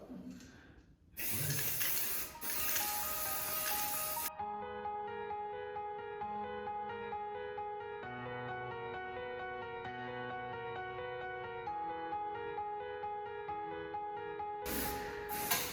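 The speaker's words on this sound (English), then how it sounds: "popping on some of the spray paint" Spray paint hissing from an aerosol can in a renovation setting: a loud, steady burst of spray runs for a few seconds, then a second brief burst near the end, with background music between.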